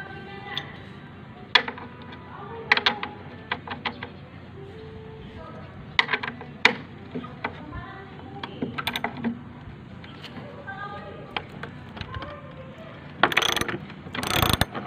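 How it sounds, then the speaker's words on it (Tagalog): Bolts being removed from a homemade wooden table, heard as ratcheting clicks, metallic ticks and scraping mechanical sounds in irregular bursts, with a louder clattering run at the end. "So, tara, tanggalin na natin itong mga bolts."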